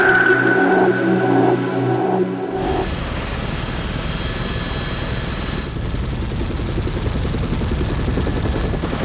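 A helicopter flies over the site of a volcanic eruption on Réunion. A steady, loud rotor and engine roar fills the whole clip after a brief quieter opening with a low tonal hum.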